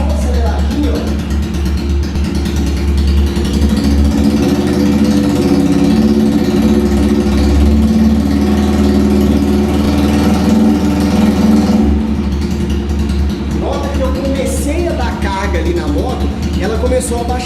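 Motorcycle engine running on a lean fuel mixture, a loud steady drone with slight rises as the throttle is blipped, continuing close up for the whole stretch with a brief change near the end.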